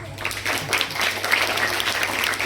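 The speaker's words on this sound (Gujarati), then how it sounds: "નીરવભાઈને જોરદાર તાળી" An audience at a school farewell ceremony for Standard 8 students and a teacher breaks into lively clapping that stays strong and continuous, with no voices rising above it.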